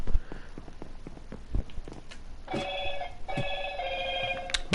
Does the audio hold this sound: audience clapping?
no